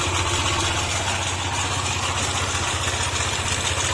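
A Honda ADV160 scooter engine idles close by with a steady, even rhythmic putter and a constant rough, bearing-like whirring noise laid over it, running alone without any talk.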